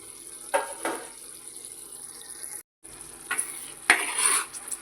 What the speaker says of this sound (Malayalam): നമുക്കൊന്ന് മൂടി തുറന്ന് നോക്കാം.